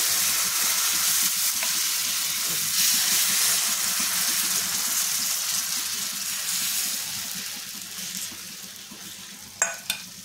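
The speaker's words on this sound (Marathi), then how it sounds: "ते गरम करून त्याच्यामध्ये तेल टाकून घेते। बॅटर तयार केलेले ते टाकून घेऊया।" Besan chila batter frying in oil on a hot griddle over a gas flame gives a loud, continuous close sizzle that slowly eases off, ending with a couple of sharp clicks and no voices.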